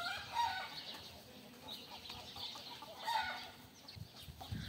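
Grown chickens cluck faintly at a distance over a dull, busy outdoor background, with scattered soft calls throughout.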